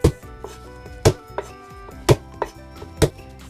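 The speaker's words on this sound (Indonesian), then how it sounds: "Lalu saya cincang ya." Garlic cloves being chopped with a knife on a board, four sharp, loud chops about one second apart with lighter taps in between, no voices.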